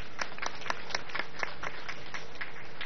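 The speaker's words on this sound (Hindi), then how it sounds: "मुख्यमंत्री जी पर एक बार जोरदार ताली बजाओ" A rally audience gives a short burst of applause for the chief minister, scattered mid-distance claps over a steady crowd hum, with no clear talk.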